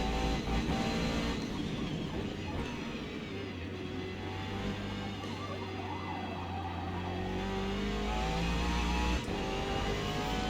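A car engine revs steadily in the Forza racing game while driving the Nürburgring on a clear afternoon, a loud, continuous drone with shifting pitch that keeps going for the whole stretch.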